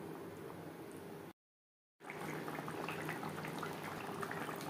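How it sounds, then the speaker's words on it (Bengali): Rohu fish curry with potato and green banana simmers and bubbles steadily in its gravy, a continuous close boiling sound that cuts out briefly in the middle and then resumes. "গ্রেভির সাথে মাছ আরও 3-4 মিনিট রান্না করব"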